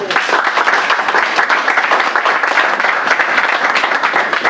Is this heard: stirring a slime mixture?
no